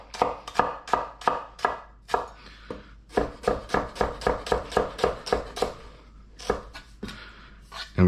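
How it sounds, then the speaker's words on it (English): A knife chops cilantro and onion on a cutting board in a rapid, even series of loud close thuds, a brief pause mid-run, then more quick chops. "Give it a rough chop."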